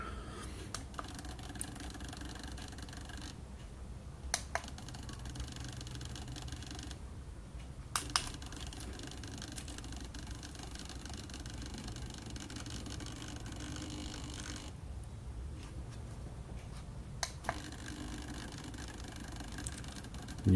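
A servo-driven model railway turntable rotating slowly, with a low continuous motor whir, occasional short clicks and brief pauses in the drive, faint and close, running alone throughout.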